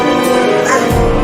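Cartoon dogs bark and yip in a short burst, loud and close, mixed with a busy animated soundtrack.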